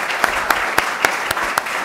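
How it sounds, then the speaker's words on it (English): An audience at a community panel discussion on policing applauds the panelists with brief, dense clapping, marked by a few evenly spaced sharper claps. "let's give our panelists a round of applause"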